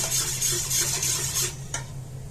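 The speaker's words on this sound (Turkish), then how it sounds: "Ben ama sürekli karıştırıyorum. Hiç durmadan karıştırmanız lazım." Pomegranate Turkish delight mixture being stirred without pause in a pot, the spoon scraping and swishing in quick repeated strokes over a low steady bubbling hum.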